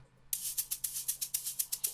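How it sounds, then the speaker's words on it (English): Crisp shaker strokes from an amapiano-style shaker loop in a steady, fast pulse, starting after a brief silence, bright and close. "This is the second shaker."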